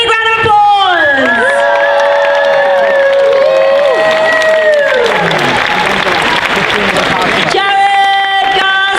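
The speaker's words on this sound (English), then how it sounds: "Give him a big round of applause!" A loud crowd at the Dragon Con Friday night costume contest in Atlanta claps, cheers and whoops for the best-in-show winner, with shouts and voices rising over continuous applause.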